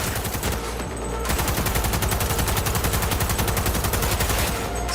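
Rapid automatic gunfire in Cyberpunk 2077, a loud, continuous burst of closely spaced shots after a brief opening shot, close and dominant.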